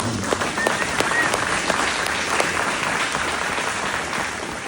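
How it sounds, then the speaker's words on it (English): Audience at a Republican county Reagan dinner in Monroe County gives a round of applause, a broad, even clapping from a sizable room that stays steady before easing slightly at the end. "Let's give him a round of applause."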